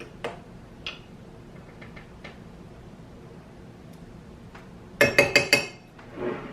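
Calendula toner stirred in a glass vessel, a few soft taps early on, then a quick loud burst of four or five bright glass clinks near the end, close and otherwise quiet.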